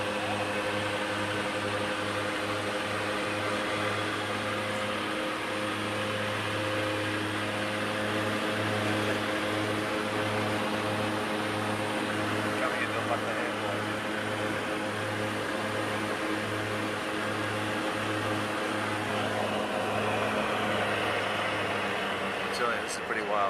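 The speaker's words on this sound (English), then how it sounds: "we're flying in this 15-seater from Kathmandu into Lucknow Airport, which is quite a small airport" Cabin of a small 15-seater plane landing at a small airport after a flight from Kathmandu, a loud steady engine drone with a pulsing propeller hum that holds throughout, with no talking.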